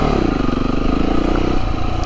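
A Honda CRF250 trail motorcycle rides along a tricky trail, its single-cylinder engine droning close and steady with slight rises and dips in revs.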